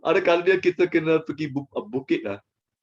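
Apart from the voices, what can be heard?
None of the usual background noises is heard.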